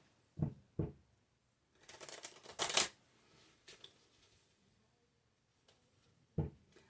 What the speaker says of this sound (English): just as I'm shuffling the cards